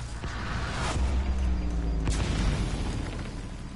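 Mortar rounds land in the online shooter Metal Gear Online, two dull booming blasts over a constant rumbling background, neither one very loud.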